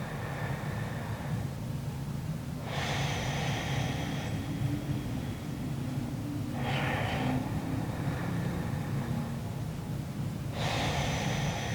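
Slow, deep breaths during a beginner yoga session for the hips, three long airy exhales spaced several seconds apart, close and soft over a steady background hiss.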